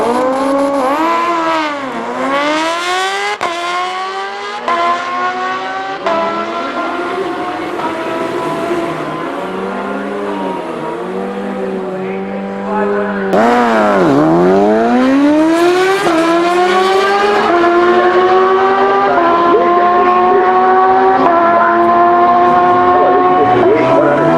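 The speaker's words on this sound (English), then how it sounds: "This is that H2 Kawasaki Ninja" Engines, including a Kawasaki Ninja H2 motorcycle at a drag race, rev up and down repeatedly at high pitch, rising and falling as vehicles pass close by. The roar grows louder and denser toward the end.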